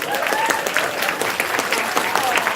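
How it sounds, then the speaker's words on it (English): Audience at a convention closing ceremony giving a round of applause, steady dense clapping that fills the room with a few voices calling out over it. "Big round of applause for Silver"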